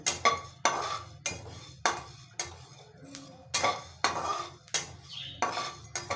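Coriander seeds dry roasting in a pan without oil, stirred with a utensil that scrapes and clinks against the metal in regular strokes about every second, close and fairly quiet.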